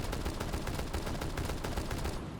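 SMG-12 submachine gun in Rainbow Six Siege fires nonstop in a fast, dense rattle of shots that stays loud and close for the whole stretch before tailing off at the very end.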